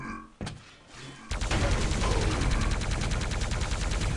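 Plasma gun fire in a Quake tournament match, a rapid, steady stream of close, loud shots after a brief lull with a single thump.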